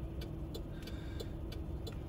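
A car travels along a street in Little Haiti, giving a steady, moderately loud road and engine rumble with faint regular ticking throughout and no voices.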